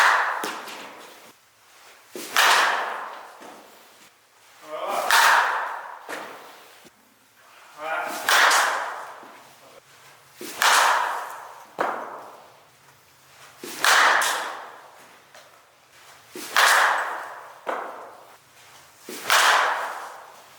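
An Easton Tantrum 2024 softball bat, one-piece and two-piece versions, strikes balls in repeated swings roughly every two and a half seconds, each a sharp close crack with a brief ring, with quiet gaps and faint background noise between hits.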